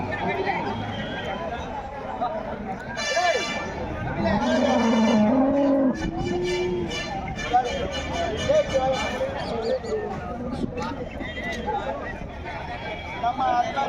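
Cows at a busy cattle market in Kundarapalli, with a loud drawn-out moo rising over the crowd chatter and someone speaking, amid general hubbub of the livestock trade.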